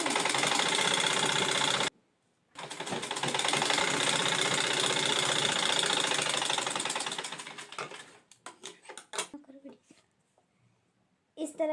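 A sewing machine runs steadily while stitching a lined blouse, a loud continuous mechanical whir that stops briefly, restarts and then winds down into scattered clicks and handling noises.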